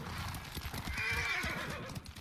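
A horse in the video game Ghost of Tsushima gallops with rapid clip-clop hoofbeats, and a whinny rises over a dense, loud game soundscape with wind and rumble.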